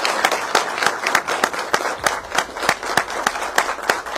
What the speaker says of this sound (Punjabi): ਇੱਕ ਵਾਰ ਜ਼ੋਰਦਾਰ ਤਾੜੀਆਂ ਮਾਰੋ ਯਾਰ